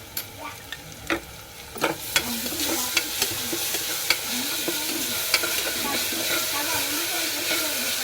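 Ginger garlic paste frying with onions in a pan for brinjal mutton curry, a continuous bright sizzle and hiss with repeated ladle scrapes and taps against the pan.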